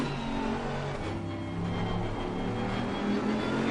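A Mercedes GT race car in Assetto Corsa Competizione at Kyalami drones close and steady, its engine note climbing and shifting up through the gears over a continuous mechanical whine, with no talk.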